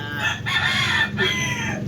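A rooster crows nearby, a loud drawn-out call in two rising and falling phrases, with no talking.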